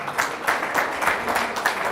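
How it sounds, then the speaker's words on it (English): Steady applause from a conference audience for session presenters, a dense wash of many hands clapping at an even level throughout. "Round of applause for the presenters."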